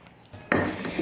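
Spices are ground in a stone mortar and pestle (ulekan), with a brief, gritty scraping rub starting partway through and continuing in short, close strokes.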